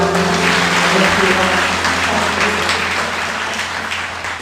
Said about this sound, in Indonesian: Angkat tangan, berikan tepuk tangan.